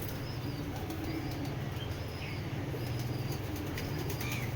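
Foreign-breed pigeons flap their wings in soft, papery flutters over a steady, noisy background, close by and moderately loud.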